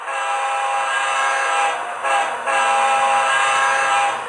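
A Scaletrains BC Rail Dash 9 model locomotive plays its onboard sound through a small speaker: a continuous droning diesel engine hum with a slight dip midway, steady and fairly loud, no voices.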